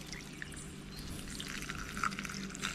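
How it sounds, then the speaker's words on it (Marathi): Water poured into a mixer jar holding chopped green chili for solkadhi, a faint steady stream running without a break from start to finish. "चांगलं पाणी टाकायचं आपल्याला, हे बघा."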